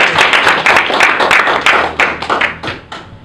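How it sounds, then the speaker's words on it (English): A small audience at a start-up meetup gives a round of applause: distinct, loud hand claps in an uneven rhythm, close by, tapering off over about three seconds. "let's give them a round of applause."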